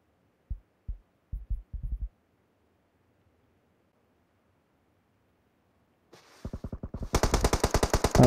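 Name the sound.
gunfire exchange in an esports shooter video game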